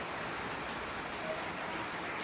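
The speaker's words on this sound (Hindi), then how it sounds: "इतनी तेज़ बारिश है ना, बस पूछो मत" Heavy rain falls steadily as a dense, even hiss on surfaces, continuous and fairly loud, with no voices.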